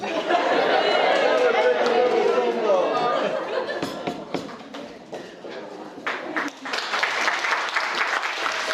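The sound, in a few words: wedding guests applauding after a toast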